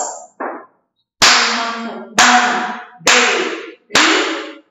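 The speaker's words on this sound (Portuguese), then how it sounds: "Quatro, uma, duas, três, quatro. Batendo palmas." Four sharp, loud hand claps counted out slowly and evenly, one per syllable of a Portuguese word in a first-grade reading lesson, each with a short ringing tail in a small room.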